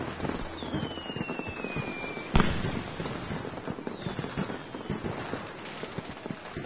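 Firecrackers and fireworks go off during Diwali celebrations: dense crackling and popping with whistling rockets rising, one sharp loud bang partway through, with a brief voice amid the continuous din.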